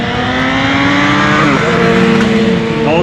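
Custom Kawasaki Z900 motorcycle with a sidecar at an outdoor show, its engine revving loud and close in steady rising and falling pulls, no talk over it.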